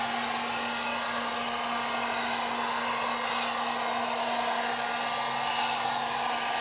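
A hair dryer blows steadily at close range while heating a plastic panel to remove a dent. The fan's whine and rushing air stay even and continuous the whole time, with no voices.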